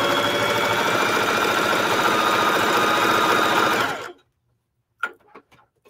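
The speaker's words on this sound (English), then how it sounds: "So you just keep sewing and turning." A sewing machine stitches a fabric shower curtain hem in a steady, fast, loud run for about four seconds, then stops abruptly, followed by a few faint knocks.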